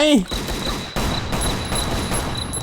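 Rapid bursts of gunfire ring out in the mobile survival shooter Last Island of Survival, a quick volley of close shots over game noise.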